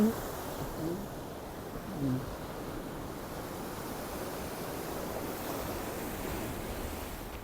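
Ocean surf roars continuously as a broad wash of crashing waves, fairly faint and steady, with wind buffeting and faint voices in the background.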